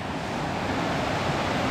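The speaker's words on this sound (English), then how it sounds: "here's an intersection of two creeks." Two creeks meet at a confluence on the trail from Multnomah Falls toward Larch Mountain, giving a steady broadband rush of flowing water that holds at one even level, close and continuous, with no voices.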